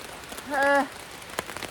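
Rain patters steadily on a tarp shelter in woodland, a soft, even spatter of drops throughout, broken once by a short, clear tonal call.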